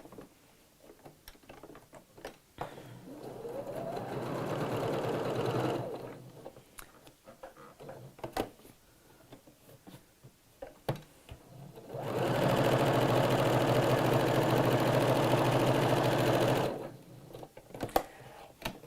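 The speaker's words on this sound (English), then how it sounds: "so just sew down both sides." Sewing machine stitching down both sides of a fabric pocket, two sustained runs of steady mechanical whirring separated by a quieter pause, close by with no speech.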